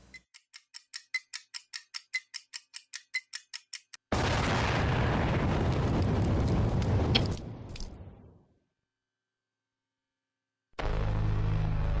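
A cartoonish bomb blast in an animated comedy, preceded by a fast ticking countdown: a sudden loud roaring burst that rumbles for about four seconds, tapers off into silence, then a second loud noisy burst at the end.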